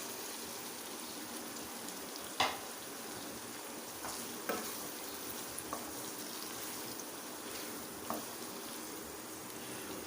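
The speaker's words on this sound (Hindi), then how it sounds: "टमाटर को हम अच्छी तरह से भून लेते हैं" Tomatoes frying with spices in a pan give a faint, steady hiss with a few sharp spatula taps and clicks scattered through it, heard alone without speech.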